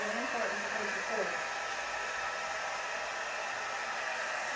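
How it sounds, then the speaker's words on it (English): A blow dryer held close, blowing over wet pour paint on a board, gives a steady, loud, even rush of air that runs without a break the whole time, with a brief wavering hum near the start. "hold your blow dryer in reverse."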